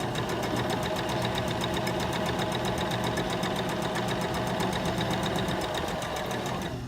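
A sewing machine stitches a bookmark in a steady, continuous run of rapid mechanical clatter at close range, with no one talking over it.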